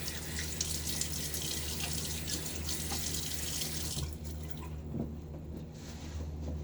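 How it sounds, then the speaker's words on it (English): Water runs steadily from a tap with splashing as it is thrown on a face, then cuts off after a few seconds, leaving a few faint drips and quiet room tone. "Let's take and throw some water on my face."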